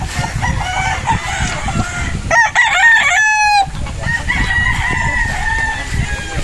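Gamefowl battle stags and a golden boy trio in a pen: a loud, close rooster crow rises mid-clip above continuous clucking and rustling from several birds.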